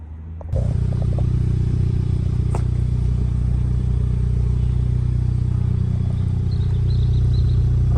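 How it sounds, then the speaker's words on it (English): A Volkswagen Golf R's modified exhaust starts and settles into a steady, loud idle rumble, close by and continuous, with no talking. "We've got the exhaust running there."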